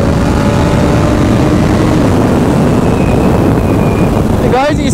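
Kawasaki Ninja 300 and Ninja 1000 motorcycles drag racing, a steady loud engine drone with wind rush throughout, climaxing in a rising whine as a bike passes close at the end.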